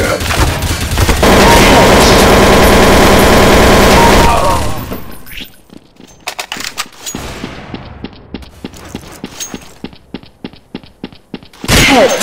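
Gunfire in the video game Counter-Strike: Source: a dense, loud burst of automatic fire for several seconds, then a quieter spell of sharp, irregular single shots and clicks, ending in another loud burst.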